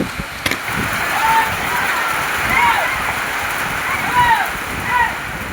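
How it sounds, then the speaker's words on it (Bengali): Heavy rain pours steadily at a railway station in the Katwa area of Purba Bardhaman, a dense, continuous hiss with a few brief, thin high calls rising above it. "তুমুল জোরে বৃষ্টি শুরু হয়ে গেল এখন"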